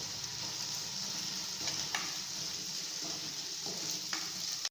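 Small onions sautéing in a pan for Chettinad fish curry: a steady close sizzle with occasional stirring scrapes, continuing throughout with no talking.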